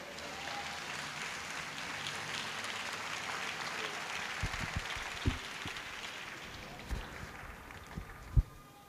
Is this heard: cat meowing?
no